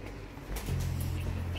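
A pigeon gives a short, low cooing call, close and fairly soft, with faint background noise.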